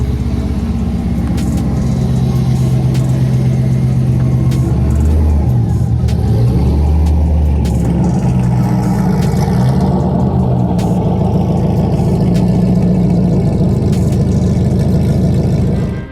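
A C5 Corvette V8 idles and runs steadily nearby, a dense low rumble with slight rises in engine pitch, continuous and loud throughout with no talking.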